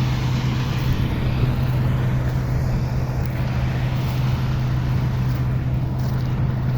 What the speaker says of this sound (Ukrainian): Це трактор мій.